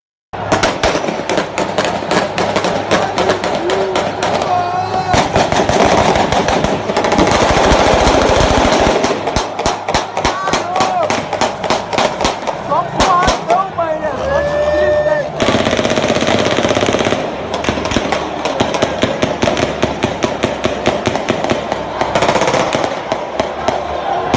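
Sustained rapid gunfire at a football match in a Brazilian favela: dense, loud bursts crackle almost continuously, like automatic weapons mixed with fireworks, over crowd noise and voices.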